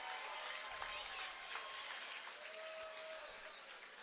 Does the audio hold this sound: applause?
yes